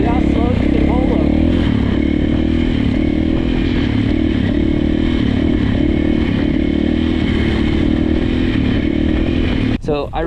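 Dirt bike held in a slow first-gear wheelie, the engine droning steadily loud and close with slight throttle swells throughout, ending in a brief clatter.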